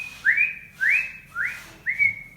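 A person whistles four times in imitation of a bird song. Each is a rising slurred note that holds level, repeated at an even pace over faint background noise.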